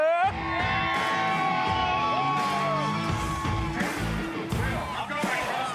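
Crowd at a masonry contest whoops, yells and cheers for a bricklayer, several voices shouting together at a moderate distance, with an announcer talking over them.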